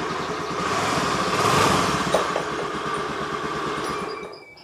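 A motorcycle engine runs roughly after a starter repair, a close, uneven, throbbing idle that swells slightly and then fades near the end, no talking.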